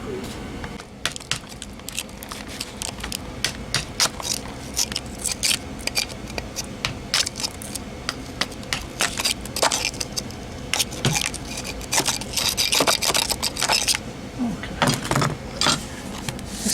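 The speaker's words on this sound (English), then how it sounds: "I just got to get a chisel and break out the concrete." A chisel breaks concrete out of a Craftsman lawn tractor's concrete-filled wheel weight, giving irregular sharp knocks, chips and scrapes, close and fairly steady throughout.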